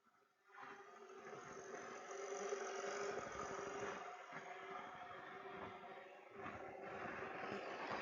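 A scooter engine runs steadily near a horse, a faint mid-range idling hum that rises after a quiet start and holds at an even level with slight fluctuations.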